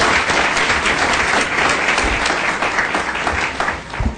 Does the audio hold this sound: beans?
no